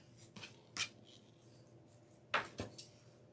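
Scissors snip through wired ribbon in a few sharp, crisp cuts, one isolated and then two in quick succession, close up in a quiet room.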